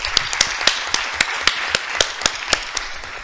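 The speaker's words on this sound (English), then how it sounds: "now I would like to hear a last round of applause for our amazing presenters" Closing applause for presenters at an HIV and adolescence conference session, heard as a steady run of separate, evenly spaced sharp claps, like a few hands or one person clapping near the microphone, with no speech.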